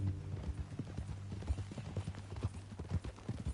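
Horse hooves clip-clop in a brisk, steady rhythm in the Red Dead Redemption 2 video game, close and distinct over a low background hum, with no talking during the hoofbeats.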